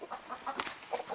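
Chickens cluck in soft, irregular bursts inside a chicken pen, several short calls close by and fairly quiet, with no talking.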